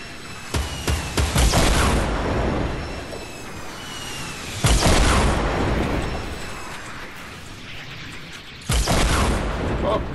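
Heavy rocket explosions in a video game land in three loud broadband blasts at the start, near five seconds and near nine seconds, each with a long rumbling tail over dense battle noise and scattered gunfire.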